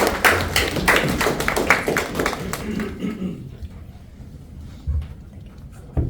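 A small group at a Toastmasters club meeting claps for the meeting's counter, with sharp individual hand claps for about three seconds that fade into quiet room noise and faint talk.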